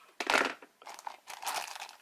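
Small plastic bags holding craft supplies such as charms, brads and wooden chips crinkle up close in three bursts of crisp rustling separated by brief pauses.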